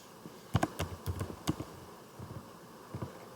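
Keys clacking on a computer keyboard while entering text in Microsoft Word, a short burst of close, crisp keystrokes followed by a pause and a couple more taps.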